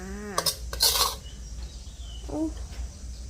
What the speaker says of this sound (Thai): เรียบร้อยก็ตักใส่จานเลยค่ะ